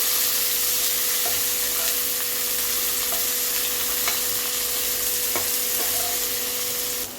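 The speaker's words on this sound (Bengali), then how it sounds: "একটু নাড়াচাড়া করে এবারে দিয়ে দিলাম পেঁয়াজ" Onion frying in hot oil in a pan, a continuous close sizzle punctuated by a few sharp stirring clicks and scrapes of the utensil, with no speech.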